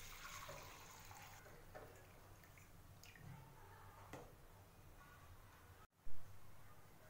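Water poured off rice that has soaked for half an hour, a faint, steady trickling wash with a few soft splashes and drips, ending in a brief knock.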